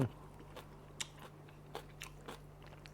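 Someone eating a spicy Thai long-bean salad with hot sticky rice: a few sharp bites and soft crunchy chews spaced out over a quiet steady hum, close to the microphone, with no talking.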